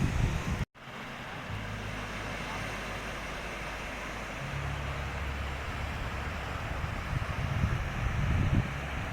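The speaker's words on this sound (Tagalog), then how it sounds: "May hangin tapos yung dagat." Steady surf and gusting wind at a beach in the Philippines, a broad continuous wash of waves with heavy wind rumble buffeting the microphone, briefly cutting out near the start and swelling louder toward the end, with no talking over it.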